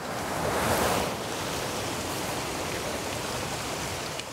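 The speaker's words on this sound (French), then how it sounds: "J'ouvre la vanne, ici, et l'eau déferle jusqu'au moulin par ce canal en bois" Water rushes along a wooden channel toward a mill wheel after a sluice gate opens, a steady loud broadband roar with a brief surge near the start and no voices.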